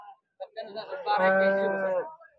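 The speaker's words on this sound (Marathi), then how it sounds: "दुधाची गाय आहे जवळ आलेली" A single long, deep moo from a dairy cow at a cattle market in Maharashtra, loud and close, rising and holding before trailing off.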